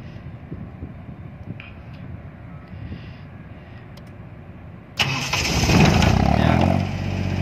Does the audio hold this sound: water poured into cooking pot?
no